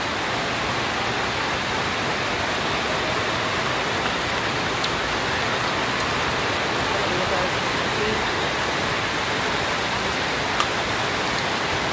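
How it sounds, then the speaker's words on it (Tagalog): Heavy rain pours steadily on a mountainside, a dense, even hiss filling the scene from start to finish with no letup, loud and close, with only a couple of faint ticks standing out. "Kaya malakas ang ulan dahil nasa bundok."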